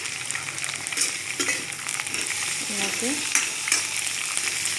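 Pointed gourd (potol) frying in hot oil on a high flame, a continuous loud sizzle with occasional clinks and scrapes of stirring, and a brief spoken word over it.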